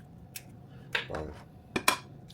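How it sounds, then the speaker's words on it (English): A few sharp, close cracks and a brief wet crunch as eggs are broken in a home kitchen for a summer breakfast, isolated clicks against a quiet background. "I'm gonna crack the eggs now"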